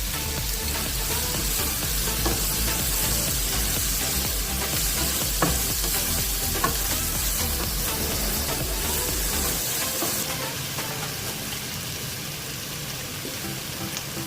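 Chicken fried rice with green chillies, salt, black pepper and chicken powder sizzles and hisses in a pan as it is stirred, a loud, continuous frying noise that softens toward the end, with a rhythmic low thumping underneath.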